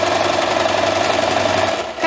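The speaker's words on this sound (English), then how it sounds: "I'm going to top stitch around the outside of this flag" A sewing machine top stitches around the edge of a two-layer appliqué spring pennant, a steady close mechanical whir with a fast even hum running continuously before easing off at the very end.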